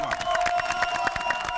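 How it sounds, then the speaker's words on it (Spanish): A studio audience breaks into applause and cheering for a doctor on a dental cleaning and whitening show, a brief, steady burst of many hands clapping with a bright tone held underneath. "Y otro aplauso le vamos a dar porque está muy guapa"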